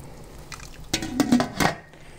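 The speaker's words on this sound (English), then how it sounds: "we're just going to empty the water out of our jar" Hot water is tipped out of a glass canning jar freshly lifted from a boiling water bath canner while making apple jelly: a brief cluster of splashing, dribbling pours with a faint glassy clink, close and fairly quiet, with no voices.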